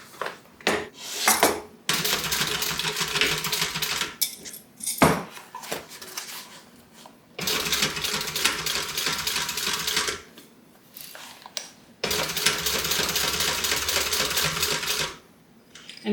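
A domestic sewing machine stitches around an interfused fleece square on a fabric tote bag, running in long continuous bursts of fast rattling needle clatter, several seconds each, broken by short pauses and a few brief taps.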